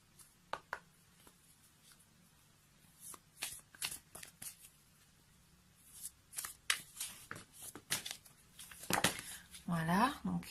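Large healing-energy oracle cards and heart-shaped cards being shuffled by hand, close, with a rapid riffling burst and a steady run of soft slaps and flicks; a quiet room tone sits underneath with no speech heard.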